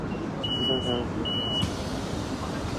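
On an MPK Łódź hybrid city bus, the door warning signal sounds as two clear, sustained beeps in quick succession over the low hum of the idling vehicle, followed by quieter engine noise.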